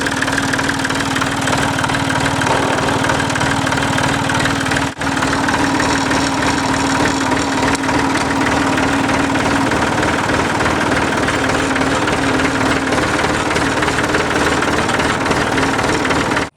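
A vehicle engine runs loud and close during a test drive, with a continuous rattling, knocking drone and a brief dip near the start.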